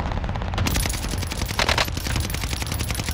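Rapid automatic gunfire in the video game Warzone, a dense string of close, loud bursts running the whole stretch with one heavier volley partway through, and no talk over it.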